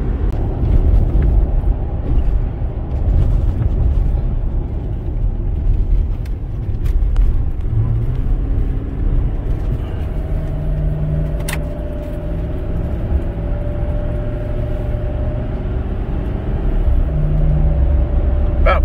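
2005 Ford F-150 XLT pickup with the 5.4 Triton engine, driving on secondary roads while towing a light load: a steady, loud in-cab engine and road rumble with faint shifting tones and occasional small clicks, with no speech.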